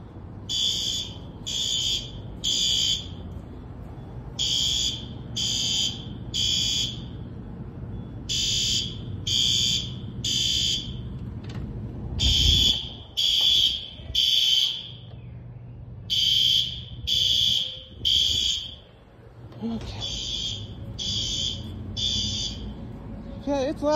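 Workplace fire alarm during a test, sounding in repeated bursts of three shrill electronic beeps with short gaps, loud and steady over a quiet room, with a person talking briefly in between.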